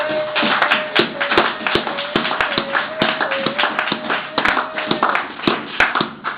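Congregation clapping in steady rhythm during a church service, loud and continuous, with sharp rhythmic hand slaps and a sustained tone underneath.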